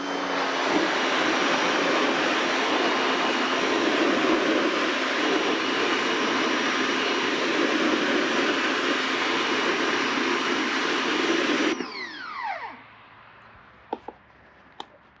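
Pressure washer spraying the back of a car wheel: a loud, steady broadband hiss holds for about twelve seconds, then cuts off, leaving a few faint clicks.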